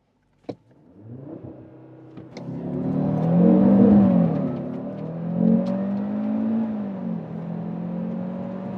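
A click, then a five-cylinder Cupra Formentor VZ5 engine revs up and accelerates hard on a circuit, its tone climbing and shifting through gears, loud and close.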